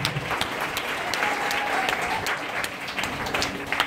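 A church congregation clapping during a prophet's prayer service in Dar es Salaam, sustained rhythmic applause with sharp individual claps standing out, loud and close throughout.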